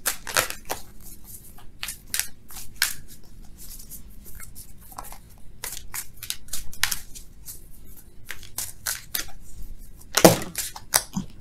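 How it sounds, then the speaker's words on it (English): Tarot cards are shuffled by hand in quick, papery bursts of riffling and slapping, close and crisp, with irregular pauses between runs and one louder flurry near the end. "Let's shuffle for real though"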